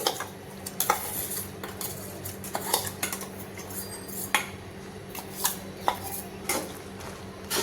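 Ground peanuts are stirred into sugar syrup in a pan over a low flame, with a spoon scraping and clinking against the metal in an irregular rhythm, close and moderately loud, over a faint steady hum, with no talking.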